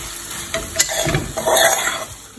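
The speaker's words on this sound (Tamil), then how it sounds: "நம்ம இப்போ வதக்கின்னு இருக்கோம் நம்ம விட்டுருக்கிற எண்ணெய் சைடில் வர ஆரம்பிக்கும்" Gongura leaves sauté in oil for a chutney, giving a close, steady sizzle broken by the scrape and clatter of a spoon stirring in the pan, with no talking.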